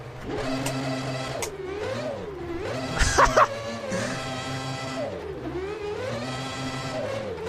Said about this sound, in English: Let's try and do some donuts, shall we, to finish it off.